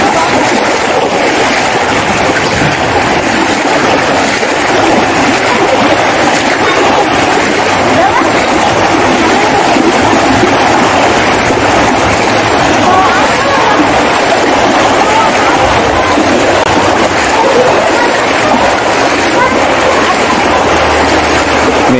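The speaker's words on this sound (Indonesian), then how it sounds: "air kali sudah masuk ke jalanan dan deras sekali" Loud, constant rush of floodwater flowing fast through a residential street, a dense roaring wash that never lets up, with no voices over it.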